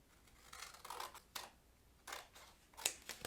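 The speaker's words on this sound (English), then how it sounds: "We're simply cutting off the excess." Scissors snip through excess cardstock on a handmade card, a handful of quiet, close crisp cuts spaced irregularly with small pauses between them.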